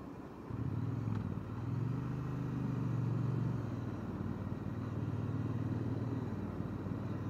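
A Triumph Bonneville T100 Black motorcycle cruising on a quiet early-morning road, with a steady low engine drone and wind rumble, smooth and continuous throughout, and no one speaking.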